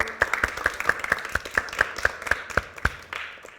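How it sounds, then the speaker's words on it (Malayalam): About a dozen sharp claps land in a steady, even rhythm, loud and close, like a small group of children clapping together in time at a Christian gathering. "നല്ലൊരു ക്ലാപ്പ് കൊടുത്ത് ഈശോയ്ക്ക്"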